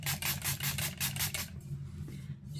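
Milani Make It Last setting spray spritzed in a rapid series of soft, close hissing pumps, then a quieter pause with faint rustling.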